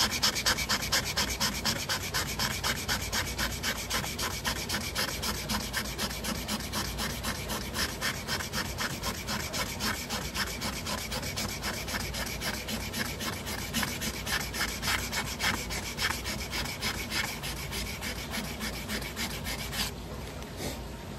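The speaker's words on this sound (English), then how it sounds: "I had to go clear down to 320, sanding perpendicular to that" Hand sanding with 320-grit sandpaper across deep paint scratches on a Mustang, a steady, close rasping rub in quick back-and-forth strokes that continues without a break.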